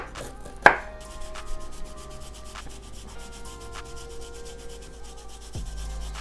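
A knife peels and cuts a fresh root on a board, giving a sharp knock at the start followed by quiet scraping and rubbing strokes, close and fairly soft.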